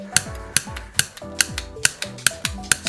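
Dog's claws tapping on a floor, a run of sharp, evenly spaced clicks about twice a second, fairly close.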